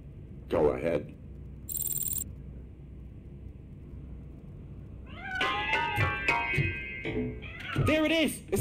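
A cat meows several times in the video game RoboCop Rogue City, with short close mews at the start and a cluster of drawn-out wavering cries near the end, amid game sounds and a brief chime.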